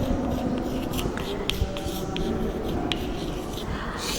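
Marker or chalk scratching across a classroom board during a physics lesson on units and measurement, a steady rubbing scrawl with a few sharper taps, continuous and fairly close.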